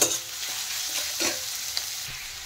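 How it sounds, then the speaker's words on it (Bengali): Thinly sliced small potatoes fry lightly with onions in a pan, a steady soft sizzle with occasional stirring scrapes and a few faint clicks, fairly quiet throughout. "আলুগুলো কিন্তু এখন হালকা ভেজে নেব।"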